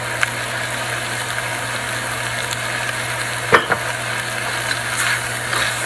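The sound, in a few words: fish sauce added to sizzling fried rice, stirred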